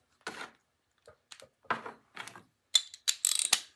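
A hand ratchet clicks in short, separated bursts while a bolt is driven into a Snapper 33-inch mower drive train, the metallic pawl ticks close and dry, growing sharper and quicker toward the end.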